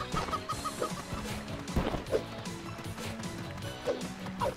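Chickens clucking in the video game Moving Out, a busy cluster of short repeated clucks over dense game music and clatter, with a couple of louder thumps mixed in.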